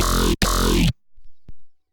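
An aggressive slam growl synth patch made in Serum hits hard and loud for under a second, with a short gap near the start and formant-like vowel sweeps. Near-silence follows, with a few faint clicks.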